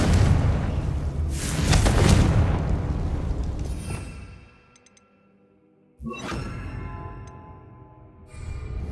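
A Confringo fire spell explodes in the Hogwarts Legacy video game with a loud, rumbling blast that rolls on for several seconds, fades to near silence, then a second sharp burst follows and rumbles again.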